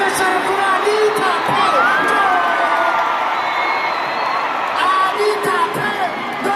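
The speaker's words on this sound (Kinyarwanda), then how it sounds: "amashyi cyane kuri Anita" A live concert crowd applauds and cheers for the MC Anita, a dense, steady roar of clapping, whoops and shouting voices that stays loud throughout.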